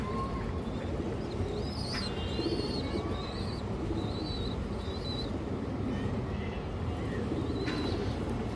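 Large-headed, short-beaked pigeons for sale give soft intermittent coos and chirps within a dense, steady background of bird and loft noise.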